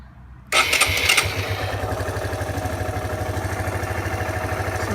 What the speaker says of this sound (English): I'm now gonna switch the engine on.